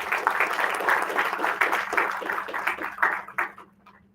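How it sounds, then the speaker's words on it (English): An audience applauds at an Institution of Engineers (India) event in Nashik, with a dense patter of many hands clapping that thins out and stops after about four seconds. "So, round of applause to all."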